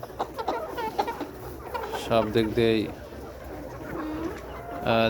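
Nourish Saverstar cross layer pullets, about sixteen weeks old and over 1300 grams, cluck and call in a poultry shed of around 1150 birds, with bursts of bird calls breaking through someone talking throughout.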